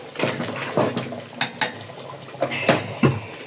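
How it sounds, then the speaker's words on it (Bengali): Curry stirred in a cooking pot, heard as a handful of close, irregular clinks and scrapes of a utensil against the pot with quiet pauses between, and no talking. "নেড়ে দিব যাতে লেগে না যায়।"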